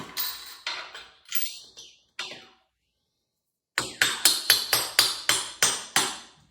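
Sharp metallic hammer strikes driving a T-nut down into a platform, a few spaced blows, a pause, then a quick run of about nine evenly paced hits, close and loud.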